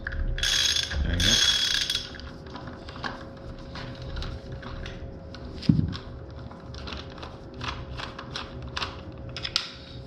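A half-inch ratchet with a 17 mm socket clicks away at a bolt on an Elite Direto trainer. A loud burst of clatter opens, followed by quieter, fast repeated ratcheting clicks close by.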